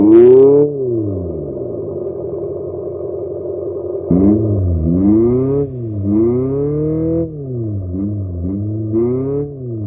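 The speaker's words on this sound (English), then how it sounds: "the fake engine noise that sounds exactly like an Abarth" A synthetic Abarth-style engine note from an electric Abarth 500e Turismo rises and falls in smooth sweeps, like a car revving up and shifting, loud and continuous with no talking.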